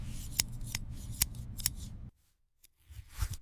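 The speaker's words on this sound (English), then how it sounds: "she raises the silver scissors, cold as her heart. One merciless snip ends the magic" Silver scissors snip through a braid of hair in a run of crisp, sharp cuts over a rustling background. A brief silence follows, then a few softer snips and rustles.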